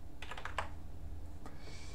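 A few quick keystrokes on a computer keyboard on an Arch Linux machine running KDE 1.1.2, a short burst followed by a single later tap, faint and close in a quiet room with low hum.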